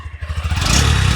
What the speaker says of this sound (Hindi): ये रही बाइक, स्विच ऑन, स्टार्टिंग बहुत बढ़िया है